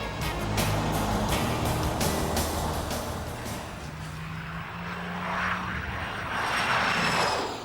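A Jaguar E-Type's engine roars loud and sustained with the throttle floored at around 100 mph, a steady droning note with rising tones, heard alone without talk.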